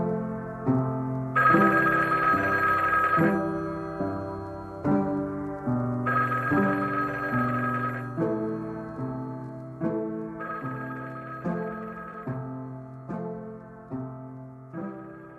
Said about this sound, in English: Now, pick up the phone, Mary.